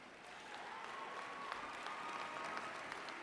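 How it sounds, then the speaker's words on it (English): Graduates applaud at a 2007 undergraduate commencement ceremony, a steady, faint wash of crowd clapping heard from a distance for several seconds, with a thin sustained tone running beneath it. "let us celebrate this day with cheerful applause and congratulations to each other"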